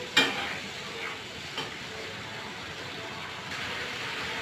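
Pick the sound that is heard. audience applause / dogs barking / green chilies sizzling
green chilies sizzling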